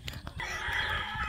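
A chicken in a mountain village in the Philippines gives a short burst of clucks, then a sustained crowing-like call, close and fairly clear with no speech.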